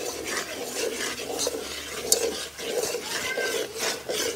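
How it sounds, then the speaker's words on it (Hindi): Sugar stirred into a steaming pot, rhythmic scraping and swishing strokes of a spoon against the pot with a faint sizzle beneath, close and fairly quiet. "अभी मैं थोड़ी डाल रही हूँ, पहले इसको थोड़ी मिक्स करेंगे।"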